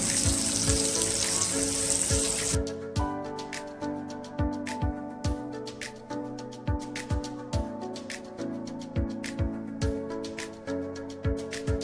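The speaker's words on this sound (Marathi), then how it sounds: "मग ह्याला आपण लसणाची फोडणी देऊ." Hot oil sizzles as garlic is tempered for a dish of bombil fish, a steady close frying hiss with short crackling bursts and a few clinks, no voices.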